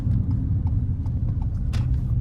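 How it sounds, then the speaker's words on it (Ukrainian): A Ford Escape 1.5 EcoBoost three-cylinder engine idles with a low, steady rumble and slightly uneven throb, close by and continuous. "Трициліндровий двигун дає трошечки такий цікавенький звук"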